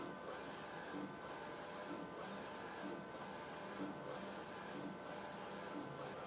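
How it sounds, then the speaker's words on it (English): A DTF printer working in a room, its print head sweeping back and forth in a steady repeating rhythm of about one pass per second over a constant mechanical hum, close and alone. "this will trigger the printer here"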